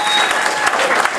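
Town hall audience applauding, a dense wash of clapping hands that stays loud and steady for a moment, with faint voices mixed in.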